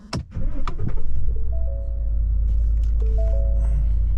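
A pickup truck's engine cranks and catches, settling into a steady low idle rumble, with short warning chimes sounding inside the cab and no one talking.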